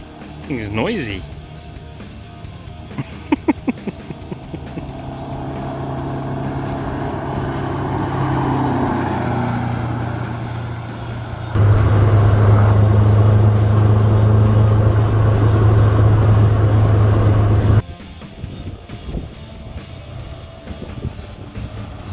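A Lotus 7 replica car with a noisy engine, driven by a learner, revs hard as the throttle is flipped. A loud, steady engine roar holds for several seconds, with lighter engine noise and people talking before and after.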